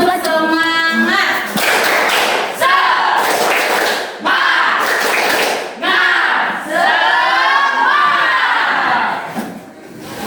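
Classroom pupils clap in a rhythmic spirit-clap pattern, loud and close, with shouted chanting voices running over the claps throughout.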